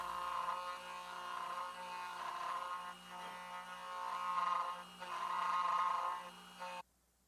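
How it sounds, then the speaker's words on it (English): A router fitted with a narrow bit carves an inlay cavity into a custom guitar body, a steady faint whine and grind with brief dips, then cutting off abruptly near the end. "here I've swapped to a narrower routing bit to get farther into these corners"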